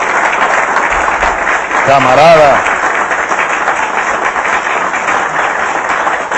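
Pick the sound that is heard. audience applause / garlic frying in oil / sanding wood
audience applause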